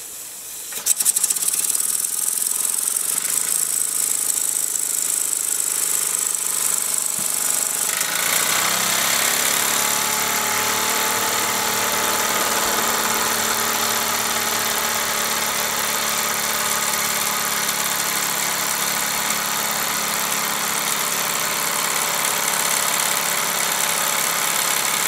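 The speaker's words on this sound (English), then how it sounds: "That's quite a pokey engine." A small steam engine runs steadily while driving a dynamo through a belt, giving a continuous, fairly loud mechanical chugging and whirring with a rapid vibrating rhythm that holds unbroken for the whole stretch.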